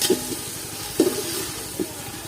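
Onions frying in a pan for a large pot of Kokani-style chicken curry, a soft steady sizzle broken by three scraping stirs spaced about a second apart, close by with no talking.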